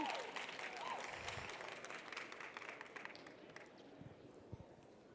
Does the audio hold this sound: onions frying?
no